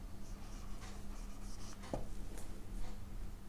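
Chalk or marker writing on a board while working an algebra problem, faint scratchy strokes with a couple of sharp taps, quiet and close.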